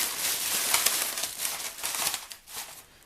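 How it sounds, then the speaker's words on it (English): Tissue paper crumpled and stuffed into a treat bag, giving a close, continuous crinkling rustle that runs steadily for a few seconds before easing off. "And I'm going to stuff in some tissue paper"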